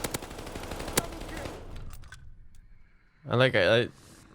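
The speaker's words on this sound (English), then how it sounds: "Damn, Toe's bullets are so good, man" Automatic gunfire from a World War II shooter, Call of Duty: Vanguard, crackles steadily for about a second and a half with one sharp shot standing out, then fades out before a short burst of game voice chatter.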